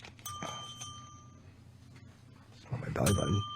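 A small desk bell dings twice on a talk radio show, a sharp ring near the start and a louder one toward the end, with voices and crowd-like chatter around it.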